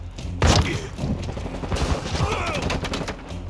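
Rapid bursts of automatic gunfire and thuds from Call of Duty Modern Warfare 2 Hardpoint on Shoot House, loud and close, in quick repeated volleys with a heavy opening shot.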